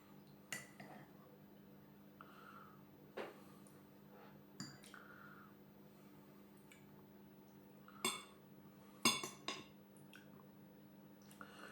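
Sparse metallic clinks of a spoon against a dish of waffles with yellow cherries, a few scattered taps at irregular intervals over a quiet background.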